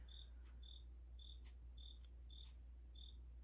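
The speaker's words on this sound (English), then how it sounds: "I'm just sitting here not saying anything and all I hear is crickets" Crickets chirping inside a house, a steady series of short, evenly spaced high chirps repeating about every half second over a low constant hum, with no talking.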